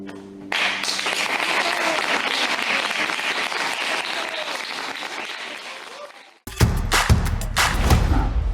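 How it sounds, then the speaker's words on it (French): Long sustained applause from a virtual audience for musicians, a dense wash of clapping that drops out briefly near the end before a louder, punchier burst of claps and thumps resumes. "profite d'un long applaudissement de son public"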